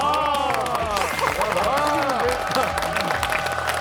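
Studio audience applause on a Korean television variety show, a bright crowd of clapping mixed with cheering and overlapping voices, steady and fairly close.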